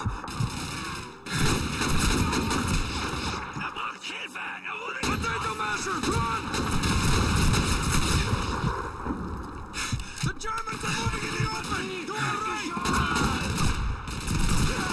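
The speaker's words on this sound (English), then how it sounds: "Machine gun time." Machine gun fire in the Call of Duty 2 video game, a dense ongoing clatter of automatic shots running almost throughout with one brief lull, loud, with battle noise and talking layered over it.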